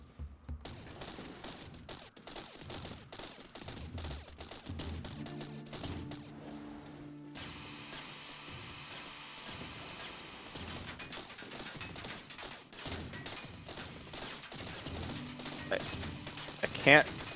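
Cannons firing in the TerraTech vehicle-building game, a steady run of dense, overlapping shots under continuous talk, with mechanical clatter and one sharp, louder hit near the end.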